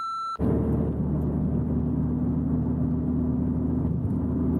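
A car engine drones loudly and steadily from inside the cabin as it revs to about 4,000 RPM and skips gears after a bad XHP flash tune, a dense continuous rumble starting abruptly after a short tone.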